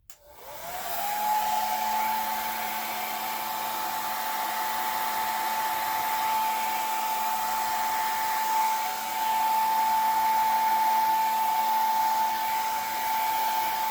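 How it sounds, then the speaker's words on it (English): A blow dryer set on low, with its tip removed, fans out the edges of wet pour paint. It gives a steady, close whirring hum with a constant whine that runs unbroken for the whole stretch. "I'm going to use my blow dryer. I'm going to take off the tip."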